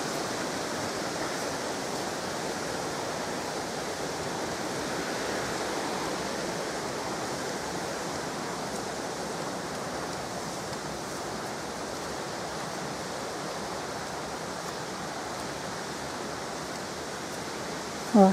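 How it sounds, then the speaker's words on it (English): A steady, full roar of falling water, constant and unbroken throughout, like standing near a waterfall. "I'm not sure if I'm going to get down to the waterfall,"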